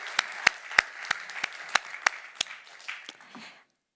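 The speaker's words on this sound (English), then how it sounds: "A big applause to young people from all over the world and to all of you." A small audience claps at a climate adaptation event in Nairobi, a thin scattering of separate, sharp hand claps at an uneven pace that thins out and stops near the end.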